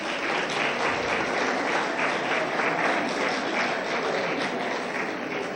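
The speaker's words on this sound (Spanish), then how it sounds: "Un aplauso, por favor." Audience applause at the closing panel of a seminar, steady dense clapping from a room full of people throughout, with no voices over it.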